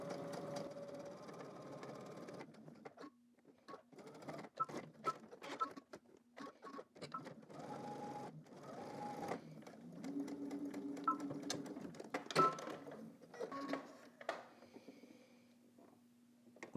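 A sewing machine edge stitches two rows of top stitching along fabric, running in several short bursts of rapid needle patter with brief pauses and some handling noise between runs, fairly close and without talk.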